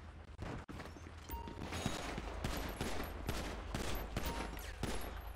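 Video-game gunfire during a bank robbery: rapid bursts of shots crack in quick succession, sharp and repeated over a steady background din, fairly quiet overall with no talk.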